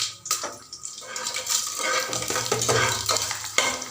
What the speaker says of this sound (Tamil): காஞ்ச மிளகா நல்லா வறுக்கணும்.